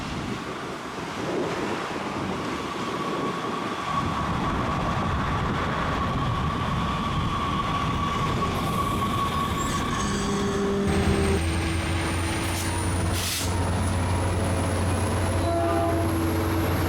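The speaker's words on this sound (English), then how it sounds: "I caught K-trains here on a pedestrian bridge used by CCSF." A San Francisco Muni K light rail train passes near a pedestrian bridge by Orange Avenue close to Balboa Park, with a steady rolling rumble, metallic squealing and rising tonal hum as it moves through.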